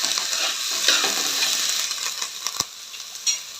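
Green chillies, cumin and coriander seeds sizzle softly in a pan while a utensil stirs and clinks against the metal, with occasional sharp taps.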